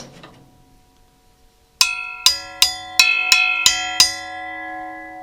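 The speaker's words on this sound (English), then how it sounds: "Now, you can hit these as chimes." Metal chimes mounted on a drum kit struck about seven times in quick succession, each hit ringing bright and sustained with shimmering overtones that overlap and slowly decay; close and clear, with no talking.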